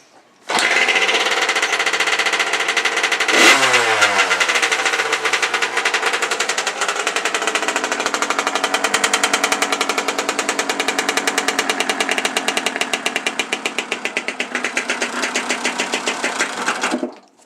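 A 1989 Yamaha YZ80 two-stroke dirt bike cold starts after a kick, then revs and settles into a loud, rapid, crackling buzz that runs close and steady for the rest of the stretch, with no talking.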